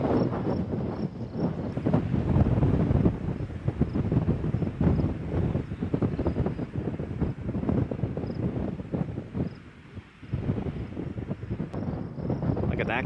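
Strong 40-knot wind gusts on a Continental Divide hiking trail buffet the microphone in loud, uneven roaring bursts, dropping briefly to a lull near the end before picking up again.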